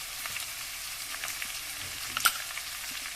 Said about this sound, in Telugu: నేను తురిమి పెట్టుకున్న క్యారెట్ కూడా వేసుకుంటున్నాను